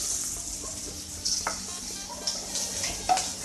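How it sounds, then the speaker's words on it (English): Chilies sizzle quietly in hot oil in a pan, with a few sharp pops and crackles standing out at irregular moments over a steady, faint hiss. "Now you can see the chilies popping."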